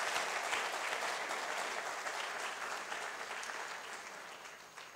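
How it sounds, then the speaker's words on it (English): An audience applauding a professor at an academic event, dense steady clapping from many hands that holds for several seconds and slowly thins toward the end, with no talk over it. "let's clap for him one more time."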